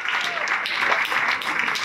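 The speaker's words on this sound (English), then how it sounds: "Can we just clap it up for that?" Guests at a school sports award dinner clap briefly in a steady, moderately loud burst, with some voices underneath.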